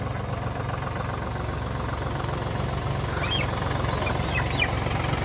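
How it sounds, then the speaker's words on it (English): A heavy tractor engine idles with a steady low rumble throughout on a farm, and faint bird chirps come through in the background. "Daddy's coming through with the tractor."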